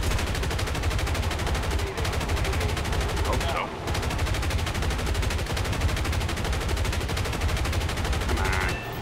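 Sustained rapid gunfire from aircraft turrets and a front cannon in the War Thunder video game, loud and continuous bursts throughout with a brief pause, a short spoken reply briefly over it.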